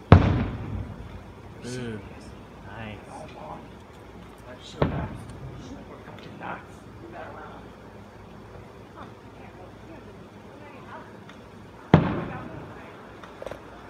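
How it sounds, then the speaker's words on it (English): Fireworks show in the distance: a few sharp booms spaced seconds apart with faint crackle trailing off, while people nearby chat and react in short exclamations. "I'm watching fireworks."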